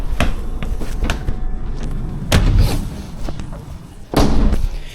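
A door on a London Underground Piccadilly Line train or depot is worked open and shut, giving loud close thumps and slams amid a rumbling, clattering background.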